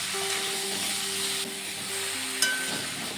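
Fish curry with small mourola fish, potato and raw banana cooks in a pan after salt and turmeric go in, giving a steady sizzle and hiss with soft stirring, a faint tonal hum and a short knock near the end.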